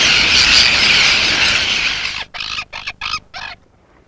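Seabirds, including red-billed tropicbirds, on an undisturbed UAE island: a dense, loud wash of overlapping calls that gives way to several short, sharp separate cries before fading to quiet.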